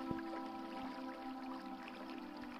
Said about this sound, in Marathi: नळांना तोट्या नसल्याने पाणी वाया जाते.